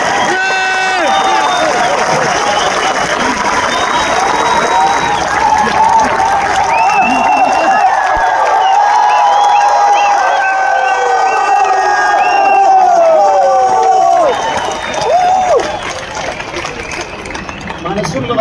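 A large crowd cheers and applauds loudly and continuously at a crowning event, the roar dense and sustained from start to finish, with tonal shouts and voices rising above it.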